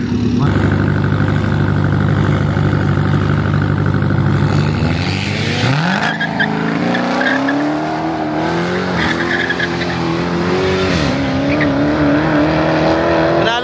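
A Dodge Hellcat launches in a time-bracket drag race, its engine holding a loud high-revving drone before surging away with rising gear pulls and tire noise, announcer-style talk running underneath.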